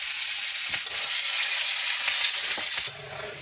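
Finely chopped onions fry in hot oil with black cumin for a fish curry, a loud, dense, even sizzle close up that drops abruptly near the end to a quieter background, with no talking.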